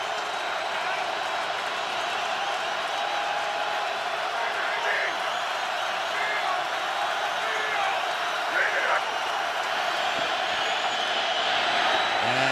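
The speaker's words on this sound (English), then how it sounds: "Crowd rising." A football stadium crowd at a Jets versus Ravens game rises into a broad, steady roar of cheering, distant and continuous throughout.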